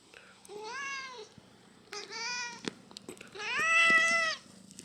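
A farm cat meows three times, close and clear, with long drawn-out harmonic calls separated by short pauses, over quiet room background.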